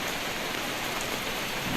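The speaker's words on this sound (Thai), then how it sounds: "เนี่ยฝนตกพอดีเลยนะครับให้ดู" Steady rain falls on a shelter built over a betta fish breeding tank, a close, even hiss of drops on the surface with no breaks and no voices.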